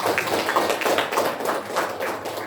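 A class of junior high school students claps together in quick, rhythmic, patterned bursts, close by and moderately loud.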